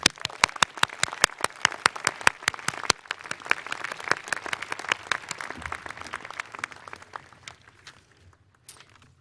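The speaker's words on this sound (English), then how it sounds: "We have another round of applause for our wonderful speakers." Applause from a commencement ceremony audience honouring the speakers, a dense crowd of steady clapping that thins out and fades toward the end, with no talk over it.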